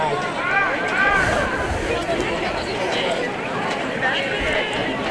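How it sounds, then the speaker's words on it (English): Crowd at a varsity high school football game between the Farmington Knights and Ritenour Huskies reacting with a steady, continuous roar of mixed voices and murmuring. Some crowd voices rise above the general babble. "Crowd is really not enjoying that play."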